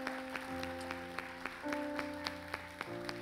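Church congregation clapping in a steady rhythm, sharp claps about three per second over sustained keyboard chords, moderately loud and without talk.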